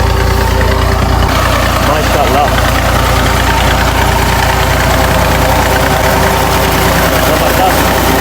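A tractor engine powering a borewell runs steadily and loud throughout, a deep continuous drone with a short spoken exclamation over it.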